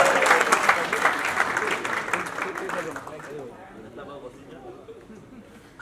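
An audience at the Maharashtra Asha Radio Awards 2025 ceremony applauds loudly and close for about three seconds, then the clapping thins out and fades into quieter crowd murmur.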